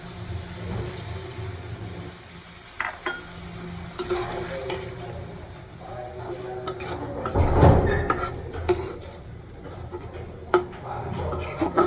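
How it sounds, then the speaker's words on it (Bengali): Broth poured into a pan of cooking prawn curry: a soft splash and gurgle amid quiet stirring, sizzling and metal-pan clinks, with one louder rush of liquid midway. "আর এখন আমি পরিমাণ মতো ঝোলটা দিয়ে দেবো"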